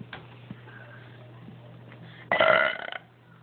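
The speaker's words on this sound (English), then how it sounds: "I'm back for burps." A girl lets out one long, loud, rumbling burp that stands clearly above a quiet room hum, preceded by a few small clicks and faint breathy sounds.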